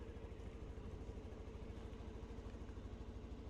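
Suzuki Skywave 400 ABS scooter engine running at idle, a low, even, rhythmic putter heard close and fairly quiet, steady throughout with no talk.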